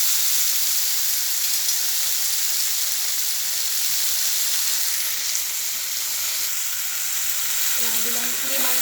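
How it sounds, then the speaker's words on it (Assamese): Tomatoes frying in oil for a fish curry give a close, unbroken bright sizzle, with faint utensil scrapes and a soft clink near the end, no voices. "বিলাহীখিনি কোমল হোৱালৈকে অলপ সময় ভাজি ল'ব।"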